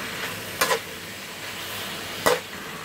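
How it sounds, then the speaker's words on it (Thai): Chicken offal and Thai eggplant stir-fry in a pan with a steady low sizzle, broken by two brief louder scrapes of the spatula about a second and a half apart. "แล้วก็จะผัดไปเรื่อยๆนะคะให้มะเขือเขาสุกก่อนเนาะ"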